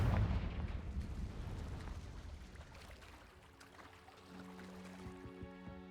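A Confringo blasting spell explodes in Hogwarts Legacy, a heavy booming burst that rumbles and slowly decays, followed by a faint tonal game sound near the end.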